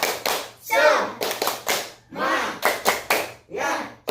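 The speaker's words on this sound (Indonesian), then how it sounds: "sekarang kita buka dengan tepuk semangat" Classroom of children doing a rhythmic spirit clap, bursts of group clapping alternating with short chanted words in a steady call-and-response pattern, close and lively.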